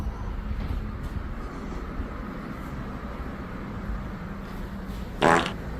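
A ghost in a video game farts with a brief, loud burst near the end, standing out over a steady low rumble of background noise.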